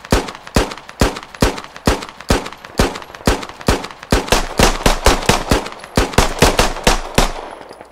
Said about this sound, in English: Switch to your pistol and just start opening fire.